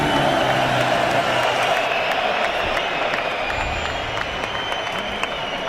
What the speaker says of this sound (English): Ola Afolabi taking the applause of the crowd.